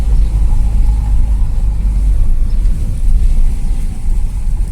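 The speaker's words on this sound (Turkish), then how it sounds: "Evet traktör." A tractor engine rumbles steadily at close range while passing, a low constant drone with no other sounds on top.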